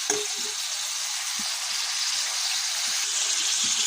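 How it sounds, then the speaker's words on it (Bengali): Beef frying in ghee in a pan, giving a steady, loud, close sizzle that holds evenly throughout, with a few faint soft knocks underneath. "এখন মাংসটা আমি ভালো করে ঘিয়ের তেলে ভেজে নিব।"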